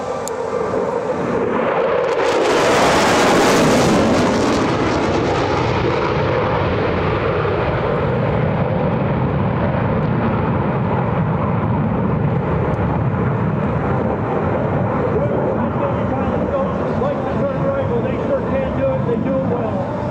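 An EA-18G Growler jet braking hard to land during a flight demonstration at EAA AirVenture 2024 airshow: a loud, roaring engine swell peaks early, then settles into a sustained rumbling jet roar that slowly fades, with an announcer talking over it.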